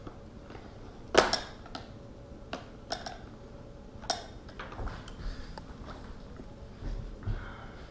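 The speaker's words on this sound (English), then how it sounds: "drop the knife" A pocket knife drops and lands with a sharp metallic clatter during removal of an Audi Q7 headrest monitor, followed by a few softer taps and handling noises against a quiet background.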